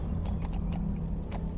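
A horse's hooves clop in a short burst of light, uneven strikes in Metal Gear Solid V: The Phantom Pain, set over a steady low hum, moderately close and without talk.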